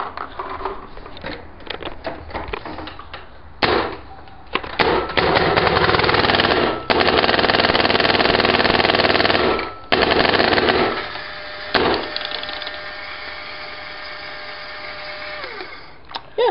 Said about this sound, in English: Now we'll do SL94 shooting.